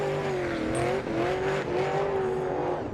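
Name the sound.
drift car engine revving, tires squealing, drift championship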